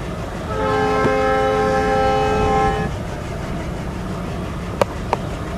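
A long train hauled by a single locomotive in the Train Simulator game sounds a sustained, loud horn blast for about two seconds over a steady rail rumble, followed by two short clicks.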